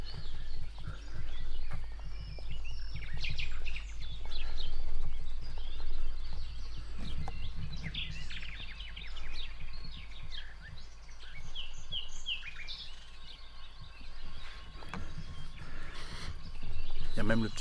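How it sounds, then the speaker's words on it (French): Birds chirp and call in several scattered bursts over a steady low outdoor rumble, moderately near, with faint rustling and footsteps. "Je suis au milieu des oiseaux."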